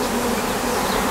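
A dense, steady buzz fills the air from honeybees packed into a crowded 16-frame hive, loud and close with no pauses.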